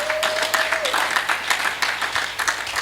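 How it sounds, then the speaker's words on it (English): A crowd at a formal event applauds during a chief guest's speech. Brisk, continuous clapping from many people lasts a few seconds, with a steady tone faintly audible at the start. "let us give them a round of applause"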